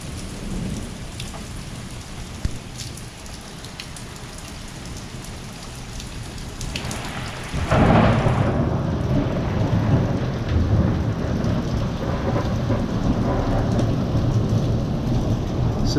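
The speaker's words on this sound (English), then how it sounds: "Severe thunderstorm." Severe thunderstorm with heavy rain drumming steadily on surfaces, a faint thunder rumble early, then a sudden loud crash of thunder that swells into a long rolling roar over the downpour.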